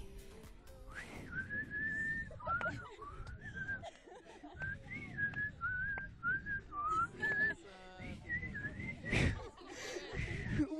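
A person whistles a melody for about ten seconds, a wavering, tuneful line broken by short pauses, with a little laughter and chatter from others in the room.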